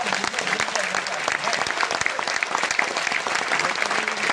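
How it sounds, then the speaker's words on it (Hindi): Sustained audience applause fills a business seminar hall, a dense, steady crowd clapping at close range that holds throughout. "तो आपके लिए ताली होनी चाहिए यार।"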